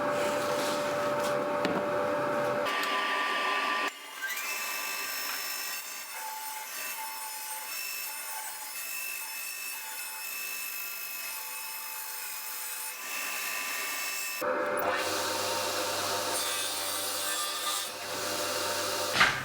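Oak timber being ripped lengthwise by a saw makes a long, loud, steady cutting roar close by, with changes in pitch and level as the cut proceeds and a brief tool whine at each end.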